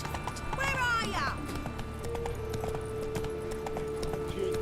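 Geralt's horse Roach in The Witcher 3 gives a loud whinny and then clip-clops along in a steady hoofbeat rhythm, with a voice speaking over it.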